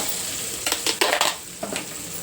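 Ginger-garlic paste and onions fry for a pulao under a constant sizzle, with a few quick scraping strokes of a spoon through the pan.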